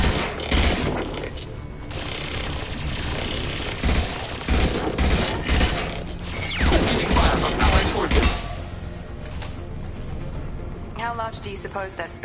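Heavy gunfire in a firefight in the video game Mass Effect 2, dense rattling volleys and mechanical clatter filling the scene, with voices calling out over the din.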